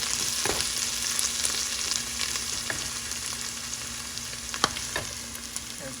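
Onion and tomato fry in a pan for an Ethiopian dish, a steady soft sizzle with occasional sharp crackles and pops scattered throughout; no talking.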